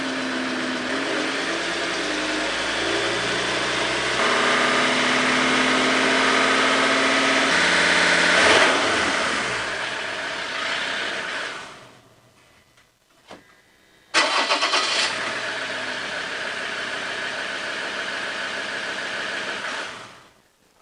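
A Mazda BT-50 engine cranks and catches after a fuel filter change, then settles into a steady idle, briefly cutting out before restarting and idling evenly again.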